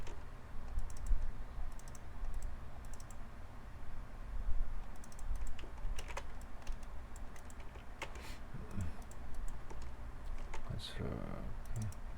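Computer keyboard shortcuts keyed in short clusters of clicks, quiet and close, scattered over a low background hum with a little faint talk.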